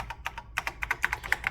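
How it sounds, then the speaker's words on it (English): Typing on the old-style clicky keyboard of a TRS-80 Model 3 computer, a quick irregular run of sharp, close key clicks with no talking. "There's the old style click keyboard, which I absolutely love."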